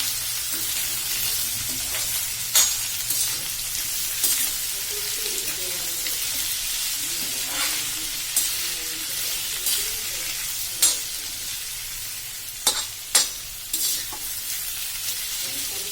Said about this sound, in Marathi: ते सॉफ्ट होईपर्यंत आपल्याला होऊ द्यायचं आहे तेलात छान फ्राय